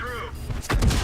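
A tank cannon fires in a tank video game with a German VK 30.01 D medium tank, one heavy booming shot that lands late and rolls into a short rumble after a quieter, tonal lead-in.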